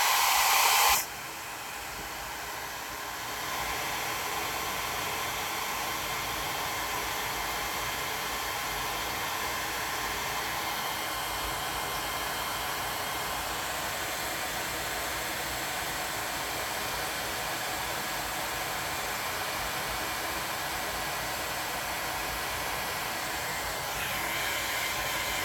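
A hair dryer blows steadily over a wet watercolor landscape painting, a loud continuous whooshing roar that runs unbroken for the whole stretch after a brief stronger burst at the start.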